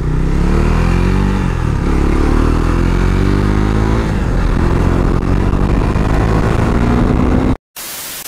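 A motorcycle engine drones loudly and steadily while riding along a road, with a continuous close engine roar and rushing wind noise, no talking, cut briefly near the end.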